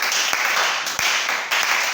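A church congregation claps steadily to acclaim the Lord, a dense, loud wash of applause with a few sharper hand strikes standing out, and no voices on top.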